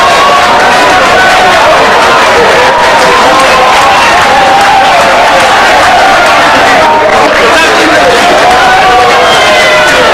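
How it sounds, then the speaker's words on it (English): A rugby league crowd of Batley supporters at a Batley versus Dewsbury match roars, cheers and claps loudly and continuously, a dense wash of noise throughout. "rapturous applause here from the Batley contingent"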